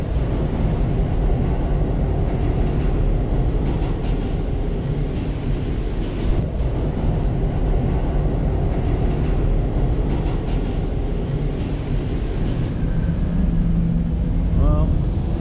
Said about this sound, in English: there goes the D train